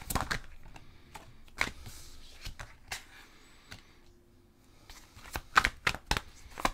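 A tarot card deck is cut and shuffled by hand: brisk, close riffles and sharp card slaps come in uneven bursts, with a quieter lull in the middle before a rapid flurry of snaps near the end.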